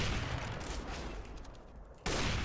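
Player gunfire in the CS:GO shooter, dense rapid shots in a continuous burst that thins out before a sharp loud return near the end, close and gritty, no talking.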